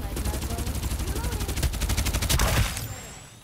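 Rapid automatic gunfire in the battle royale video game Farlight 84, a long evenly spaced burst of loud shots that builds in intensity, then cuts off into a short fading tail.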